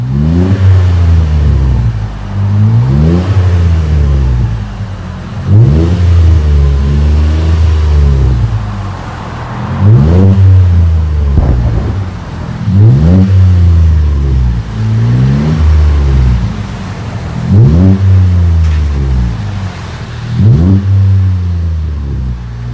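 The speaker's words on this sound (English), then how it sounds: "3-inch mandrel tubing with the Magnaflow large case offers a deep, smooth, rich tone" A 2020 Chevy Colorado V6 with a 3-inch Magnaflow cat-back exhaust revs repeatedly, each deep, throaty rise and fall close and loud, with short idle pauses between blips.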